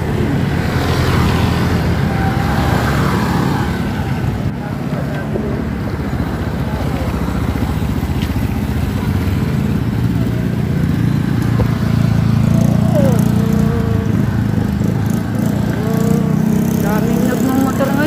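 Motorcycles ride along a road near Bustos Dam in Bulacan, making a constant loud engine drone mixed with wind rush, while people talk over it.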